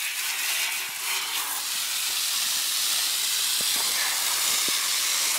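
Garden hose spraying water onto an HVAC condenser coil, a steady broadband hiss of water spray running continuously and close, with a few faint clicks underneath.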